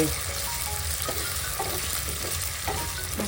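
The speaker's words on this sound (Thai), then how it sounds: "ทอดเต้าหู้ก่อนเลยค่ะ" Tofu deep-frying in hot oil gives a steady, close hiss of bubbling with a few soft clinks and stirring knocks at intervals, and no talking over it.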